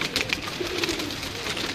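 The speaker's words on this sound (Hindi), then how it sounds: "ये जी तमाम कबूतर हैं आपकी स्क्रीन पर हैं" Pigeons cooing on a rooftop, soft repeated coos mixed with a steady bed of bird calls and ambient noise, fairly close and continuous throughout.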